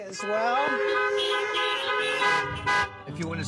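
Several car horns honk together in a sustained, overlapping blare at a drive-in church service, loud and nearby, with a voice breaking in briefly near the end.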